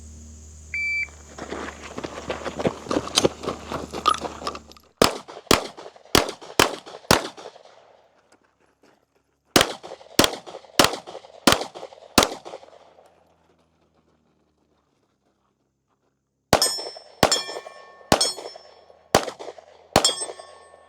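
A shooter fires a red-dot pistol in rapid strings of five or six sharp, close shots. Each shot rings off a steel target with a metallic clang, and short pauses separate the strings, with a timer beep at the start.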